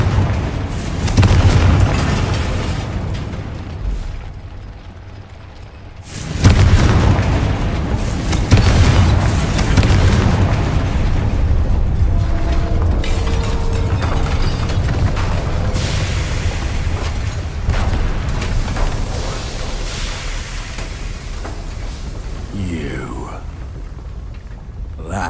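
Blasting-curse explosions in the Hogwarts Legacy video game: a deep boom at the start and another heavy blast a few seconds later, followed by sustained rumbling, crackling debris and game ambience.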